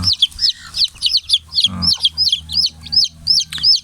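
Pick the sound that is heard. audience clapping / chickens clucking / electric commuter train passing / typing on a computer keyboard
chickens clucking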